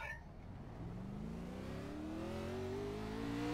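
Race car engine in the iRacing sim, one steady rising rev over a lap, the pitch climbing smoothly throughout under a continuous whir with no talk.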